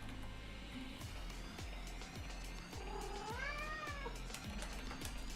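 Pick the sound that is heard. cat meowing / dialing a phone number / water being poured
cat meowing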